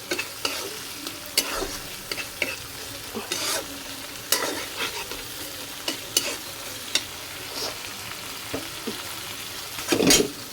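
Stuffed pointed gourd (patal) stir-fries in a little oil, a steady sizzle punctuated by repeated scraping strokes of a spatula against the pan, with a louder clatter near the end and no talking.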